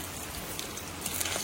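Steady heavy monsoon rain falling on surfaces, a dense continuous hiss with soft droplet patter, moderately loud and unbroken, with no voices.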